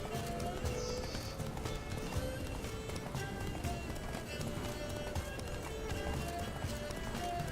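A horse gallops in The Witcher 3, its quick clip-clop hoofbeats running steadily and close throughout, mixed with game music and ambience, with an occasional faint whinny.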